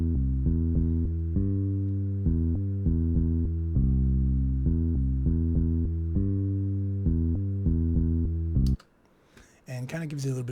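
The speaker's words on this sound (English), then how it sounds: "So now this really simple bass scale sounds like this." Simple plucked synth bass scale with a bouncy groove, notes stepping in a steady repeating rhythm, clear and alone, then cutting off into a short pause before a voice starts talking.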